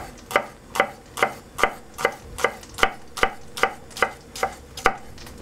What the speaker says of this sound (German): Und wenn sie ein bisschen größer werden, dann hackt nochmal drüber.